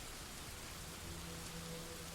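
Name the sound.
rain in the video game Dwarf Fortress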